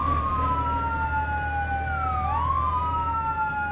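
A fire truck's Martinshorn-style wailing siren in Firefighting Simulator: The Squad sweeps up and down in overlapping tones above a constant low engine drone, loud and continuous.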